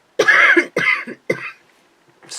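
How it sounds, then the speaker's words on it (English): Three sharp, harsh coughs in a row, close to the microphone, followed by a short pause and a faint breath. "bit of a cough."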